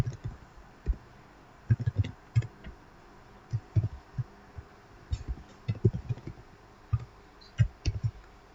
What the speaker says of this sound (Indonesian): Saya ketik dulu.